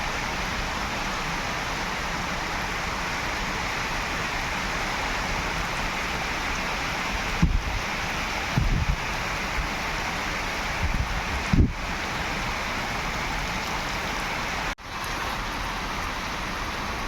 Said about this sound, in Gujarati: અમારા ગામડામાં આવો વરસાદ હોય ભાઈ